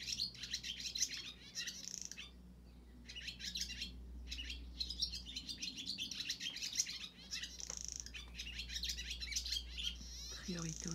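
Small birds chirp and tweet in bright, rapid bursts from moderately close in Paris, with a steady low hum underneath and brief gaps between the phrases.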